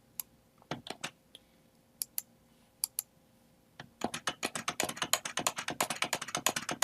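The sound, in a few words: typing on computer keyboard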